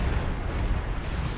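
Continuous rumbling blasts and bomb explosions from an enemy defense system in the game Anno 2205, a dense, loud, steady barrage with no clear gaps.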